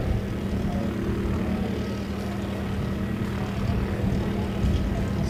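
A light propeller aircraft of the Aero Club comes in at an airfield, its steady engine drone loud and unbroken throughout.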